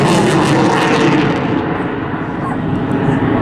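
A Royal Air Force Typhoon FGR4 jet departs the Southport air show with a loud, broad jet roar that gradually fades into the distance while a commentator speaks over it.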